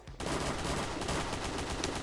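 Rapid video-game gunfire from weapons sold in the game, a dense, loud run of overlapping shots that bursts in after a brief quiet moment and keeps hammering without pause.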